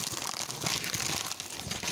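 A plastic instant-noodle seasoning packet is crinkled and handled up close, giving a continuous dry rustling and crackling.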